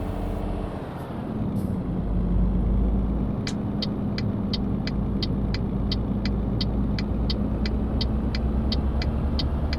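A DAF truck in Euro Truck Simulator 2 drives with a steady, loud engine drone and rumble throughout, while a regular ticking, like an indicator, repeats from about three seconds onward.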